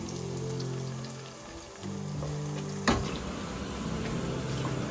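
Onions sizzle and crackle in hot oil for a lamb or beef biryani, a steady close frying hiss with a sharp spike near the middle, while a low hum runs underneath and no one speaks.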